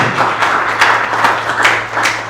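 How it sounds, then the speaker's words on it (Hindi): A small audience at a Hindi motivational talk on leaving one's comfort zone claps in a brief, loose burst, with several hands striking unevenly in a room and a steady low hum underneath. "जोरदार ताली इनके लिए"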